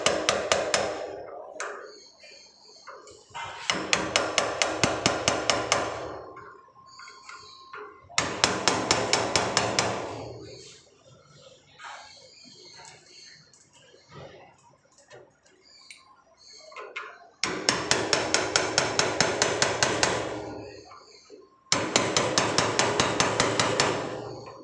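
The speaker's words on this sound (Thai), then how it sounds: "มันทำปีกสำหรับให้เราตอกไปแล้วครับตอกไปเลย" Hammering a sink drain flange into place: several bursts of rapid, regular metallic taps, each run lasting a couple of seconds with quiet gaps between, close up and without speech.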